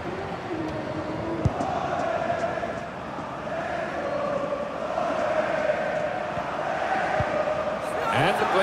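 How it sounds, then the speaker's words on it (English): A stadium crowd in the EA Sports FC football video game cheers as one loud, continuous roar that swells slightly and holds steady, with a voice talking over it. "just listen to the crowd, they're going wild"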